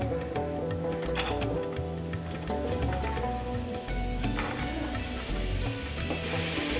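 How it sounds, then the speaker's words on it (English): Onions sizzling and frying in a pan over medium-high heat for butter chicken, a steady dense crackle with occasional sharper pops and stirring scrapes, close and continuous throughout. "So we're at medium high. I'm gonna add the onions."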